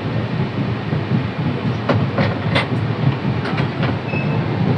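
The 12828 Purulia SF Express runs from Bankura toward Howrah, heard from inside a crowded general coach: a continuous close rumble of wheels and carriage with a few sharp clicks and rattles rising over it.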